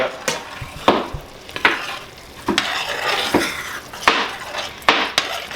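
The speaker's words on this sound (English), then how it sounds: "Stir it up." A utensil scrapes and stirs ground meat with enchilada sauce in a pan, giving close, repeated stirring strokes every second or so over a low simmering sizzle.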